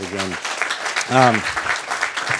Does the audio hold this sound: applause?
yes